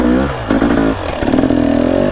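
An enduro motorcycle revs hard on a trail, the engine rising and falling through close, loud bursts with clattering from the rough ground.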